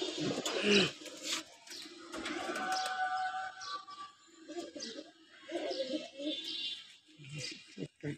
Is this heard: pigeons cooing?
yes